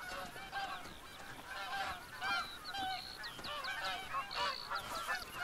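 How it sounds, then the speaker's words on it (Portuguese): A Canada goose honks repeatedly in the Call of the Wild hunting video game, with several loud, uneven calls in quick succession and no talk over them. "Tem ganso bugado lá, ó."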